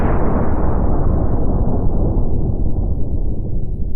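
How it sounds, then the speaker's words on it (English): Sustained deep rumble of an AI-generated explosion, dense and loud throughout, gradually losing its brightness as it rolls on. "Let's try explosion."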